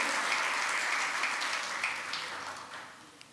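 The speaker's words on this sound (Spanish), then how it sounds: "Darle ese aplauso al Señor" A church congregation applauds during a Spanish-language sermon, a dense, steady wash of clapping that slowly fades away over a few seconds.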